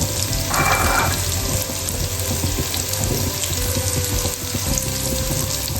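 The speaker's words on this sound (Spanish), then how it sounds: "dejamos que tomen color los ajos, le ponemos la cebolla" Onion is added to garlic browning in a frying pan, giving a steady hiss and sizzle with a brief louder burst as it goes in, continuing evenly afterward.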